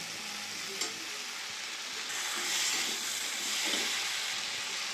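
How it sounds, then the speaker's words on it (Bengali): Pumpkin and potato cook in spices in a pan as fried prawns go in, a moderate steady sizzle with soft stirring scrapes and a small knock near the start. "এখানে চিংড়ি মাছগুলো ভেজে রাখা দিয়ে দেবো"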